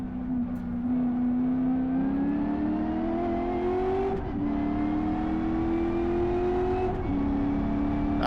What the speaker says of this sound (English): that sounds like a proper V8, doesn't it?